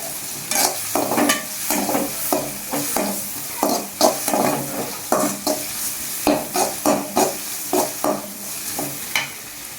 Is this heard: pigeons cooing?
no